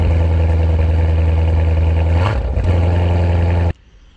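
A Corvette engine runs loud and close with a steady low rumble, dips briefly as it revs, then cuts off abruptly.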